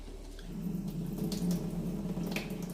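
Steady sloshing and swishing of water with soft splashes as rice is rinsed by hand in a bowl, close and continuous.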